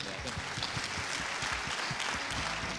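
Audience at a leadership summit breaks into steady, dense applause, loud and continuous from start to finish with faint voices underneath.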